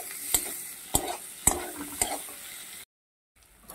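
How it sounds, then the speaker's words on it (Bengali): Onion and tomato sizzle in a frying pan, broken by four sharp scrapes of stirring at a steady pace. The sizzle cuts out near the end and then returns faintly. "দিয়ে ভালো করে পেঁয়াজ আর টমেটোকে ভাজবো"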